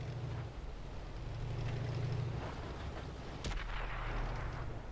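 A Skoda T25 tank gun in a tank video game fires a burst, with dull booming reports and one sharp crack standing out over a continuous low engine rumble.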